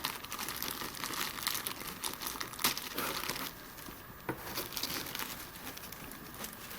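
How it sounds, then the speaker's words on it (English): Plastic wrapping pulled and crinkled off a large collectible figure during an unboxing, a steady close crackling rustle that runs throughout with a brief sharper tear near the middle. "I guess I'll take the plastic off of this one as well."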